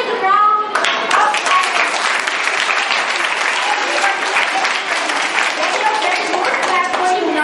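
Class V schoolchildren break into loud, sustained applause in a school hall, dense clapping filling the room close and continuous with a few young voices mixed in.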